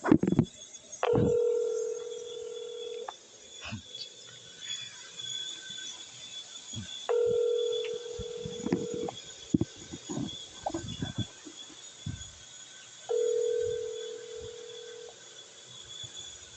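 A telephone line rings unanswered while calling a real estate office: three long, steady ring tones spaced several seconds apart, heard through a handset with faint room noise and clicks between them.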